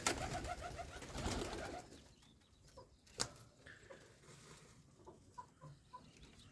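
Pigeons coo and flutter in a village loft, with a louder burst of calls early on, then quieter scattered coos and a sharp clack partway through.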